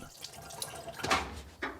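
Water running from a kitchen tap in a small holiday home perched high off the ground, a soft uneven splashing stream with a few louder gushes and drips, quiet and close, no voices.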